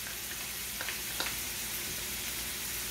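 Garlic sizzles steadily in a hot pan with browning hamburger meat, a continuous close crackling hiss with a few brief sharper pops partway through.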